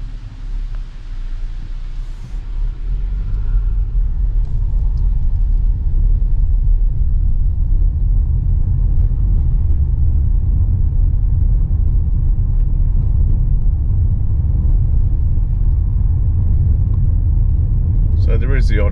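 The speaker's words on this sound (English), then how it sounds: "That's two cars that have come past" Cars drive past on a road near a disused guardhouse at an abandoned Soviet nuclear missile base in a Latvian forest, tourist spot; a loud, steady rumbling roar builds and holds close by for most of the stretch.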